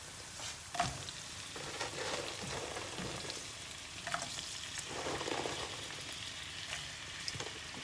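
Mushrooms frying with onions in a pan give a soft, steady sizzle and crackle with occasional small pops and stirring clatter, fairly quiet and without voices.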